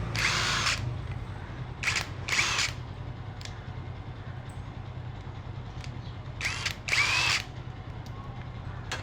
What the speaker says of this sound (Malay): Kita akan test satu fungsi ya untuk membuka skru ya.